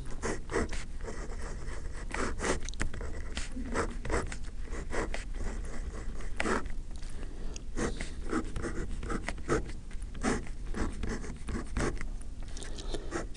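Marker or pen drawing a center-tapped full-wave rectifier circuit diagram on a board, heard as close, continuous squeaky strokes and scratchy scribbles in short bursts with brief pauses, alone without talk.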